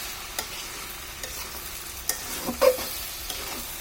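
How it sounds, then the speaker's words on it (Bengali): Rice frying in a kadai as it is stirred, with a steady soft sizzle and occasional scraping clinks of the spoon, one louder scrape near the end, close and alone with no talk. "আমাদের চালটা প্রায় ভাজা হয়ে গেছে"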